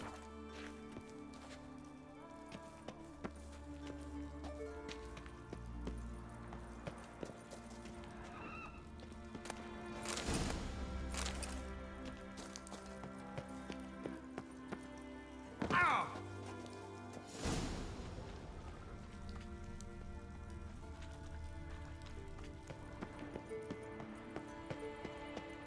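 Hooves of Roach, the horse in The Witcher video game, clip-clop steadily through the scene with occasional whinnies and sharper thuds, set among game music and ambience.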